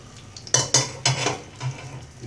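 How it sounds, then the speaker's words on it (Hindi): Ginger garlic paste being mixed into chicken wings in a pan with capsicum: several sharp spoon scrapes and clinks against the pan over a soft background sizzle, close and without speech. "मैं इसमें जिंजर गार्लिक का जो पेस्ट है ये मैं इसमें मिक्स कर दूंगा।"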